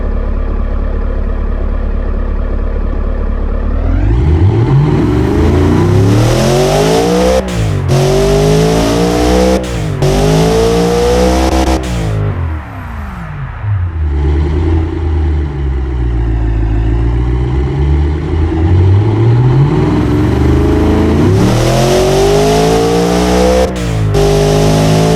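A powerful 710 HP SUV engine in the video game Automation idles low, then revs up repeatedly with rising and falling roars and sharp gear changes, loud and close throughout.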